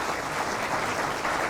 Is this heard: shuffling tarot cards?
no